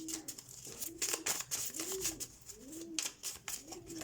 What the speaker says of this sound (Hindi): कबूतर की आवाज़ आ रही है यहाँ से